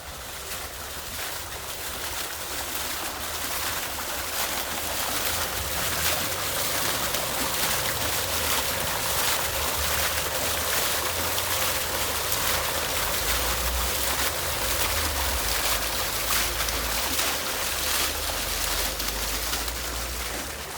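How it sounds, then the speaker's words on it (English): Water fountain in a zoo sensory garden, splashing steadily and close with a continuous broadband wash throughout, while birds chirp faintly in the background. "Here's another water fountain."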